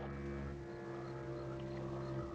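An outboard motorboat engine drones steadily with a low, even hum and harmonic whine, holding constant throughout without voices.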